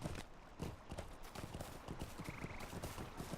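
Horse hooves in the Lord of the Rings Online video game: a quick, steady clip-clop of trotting steps, moderately close, with a faint tonal chime briefly in the background.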